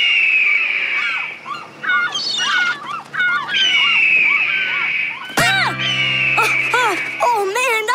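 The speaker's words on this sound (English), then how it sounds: "Audrey, play the hawk sound through the polo boat speakers. As loud as you can." A hawk cry blasts loudly from a boat's speakers at full volume, a sharp, repeated screech that cuts in abruptly after a stretch of fainter bird calls and water sounds.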